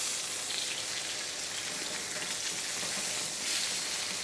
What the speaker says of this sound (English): I wanna give them just a little bit of sear before we do the last side